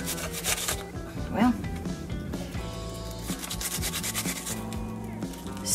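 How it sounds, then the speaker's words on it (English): Onion being grated by hand on a grater, a steady rasping rub that runs continuously and close up, with a brief spoken word near the start and rattling kitchen sounds underneath. "You're just gonna grate up some onion"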